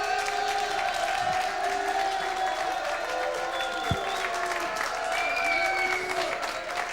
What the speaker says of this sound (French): ils applaudissent pour vous faire plaisir